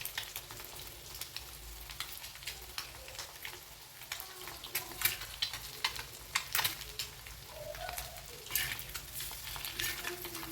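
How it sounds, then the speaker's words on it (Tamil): Eggs fry in oil for an egg curry, giving a soft, continuous sizzle with light crackles and occasional scrapes of a spatula stirring in the pan, quiet and close with no talking. "இது நல்லா இந்த ஆயிலில் ஃப்ரை ஆகணுங்க."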